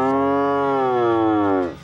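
A cow lets out one long, loud, close moo that holds steady and then falls away at the end, heard on a monastery property.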